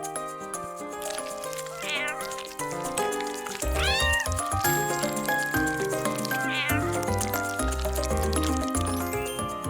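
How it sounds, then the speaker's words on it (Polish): A kitten meows several times in short, rising and falling cries, close and clear over a busy background of other sounds. "O, jaki słodki kotek."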